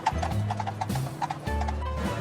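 Horses' hooves clip-clop on an old Yangon street, Pansodan, among rickshaws and pedestrians. The hoofbeats are steady and rhythmic and sit over a sustained tonal backing.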